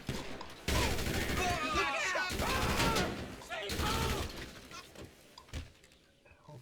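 Bursts of gunfire in GTA 5 as shots are aimed at a vehicle's tires, a few loud volleys separated by short gaps, with voices shouting over them.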